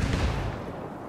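A frag grenade detonates in Ghost Recon Wildlands: one heavy, booming blast up close that quickly decays into a low rumbling tail.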